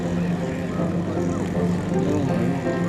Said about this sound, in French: une espèce d'avion d'origine de l'Est, russe, je crois. Un amphibie